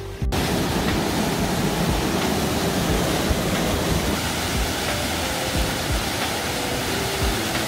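A waterfall in Deokpung Valley canyon, South Korea, roars in a continuous, loud rush of water, steady throughout with no voices.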